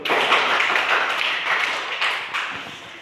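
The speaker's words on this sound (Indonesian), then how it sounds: "Tepuk tangan dulu." Classroom students clapping for a presenting group, a close, continuous burst of hand claps that fades slightly toward the end, with no talking over it.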